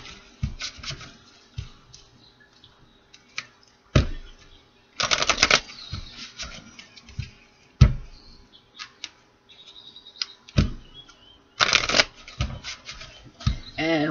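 Tarot cards shuffled repeatedly up close, with irregular bursts of riffling and flicking separated by taps and soft handling noises over a fairly quiet background.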